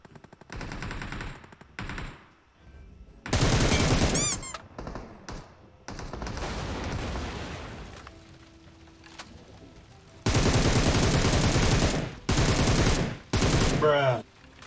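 Bursts of automatic gunfire from a shooter video game as a bot is shot, loud repeated volleys in several clusters, with a player talking in between.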